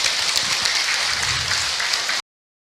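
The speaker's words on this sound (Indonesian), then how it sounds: "tepuk tangan buat Ibu Rosmala." Audience applause at an Islamic religious talk, a dense, steady wash of many hands clapping that sounds almost like rain, continuing for about two seconds and then cutting off abruptly into silence.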